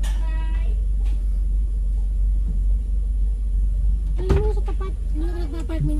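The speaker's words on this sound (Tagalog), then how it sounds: "Ilalayo ko lang yung sasakyan." A car's engine idles with a steady low rumble as the vehicle is moved outside a house, with a brief clunk and short bits of voice near the end.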